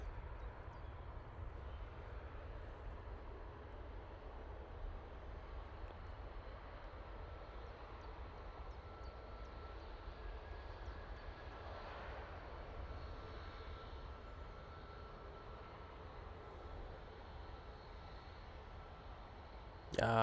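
An Aer Lingus airliner lands and its engine roar stays steady and distant, holding at a moderate level throughout with no distinct touchdown thump. A burst of talk comes right at the end.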